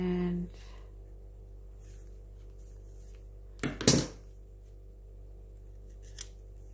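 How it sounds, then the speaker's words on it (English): Scissors snip paper trimming a junk journal page, a single quick double cut standing out briefly against a quiet room, with faint low hum throughout. "I just want to snip that off."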